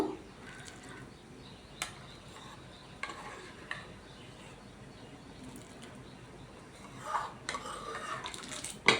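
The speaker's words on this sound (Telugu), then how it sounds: "నానబెట్టుకున్న సగ్గుబియ్యం వేసుకుంటున్నామండి ఒకసారి కలుపుదాము" Soaked sago goes into a pot of chana dal payasam and gets stirred, giving quiet scraping and occasional sharp clinks of a spoon against the pot over a faint background, with no talking.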